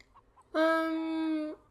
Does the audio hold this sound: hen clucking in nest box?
yes